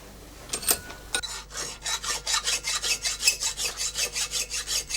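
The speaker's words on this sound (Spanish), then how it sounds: "En el tornillo de presión repasa el metal con una lima." A hand file rasps across a steel knife blade, made from an old sickle, clamped in a vise: a few tentative strokes, then a steady rhythmic series of close, scraping back-and-forth passes.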